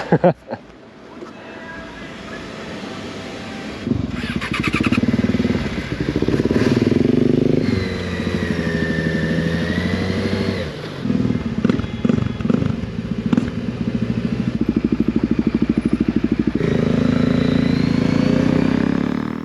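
A Yamaha and a Kawasaki DRZ-400 ride through Salt Lake City, with loud, sustained engine drone that shifts pitch as the bikes rev and change gear, plus a few brief dips between pulls.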